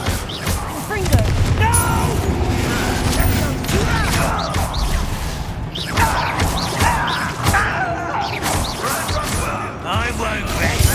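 A Confringo fire spell in the Hogwarts Legacy video game goes off in a loud booming blast amid crashing combat effects, with a character voice speaking over the action.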